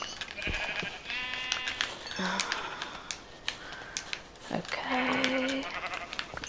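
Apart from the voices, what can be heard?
sheep bleating in the Minecraft video game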